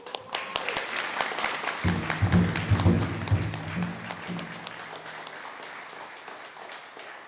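An audience at a Native graduation honoring ceremony applauds as honorees stand, a steady wash of clapping that swells and slowly fades, with a few stray voices.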